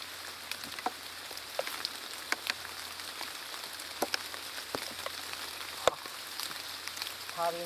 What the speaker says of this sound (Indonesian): Harinya hujan, harinya hujan.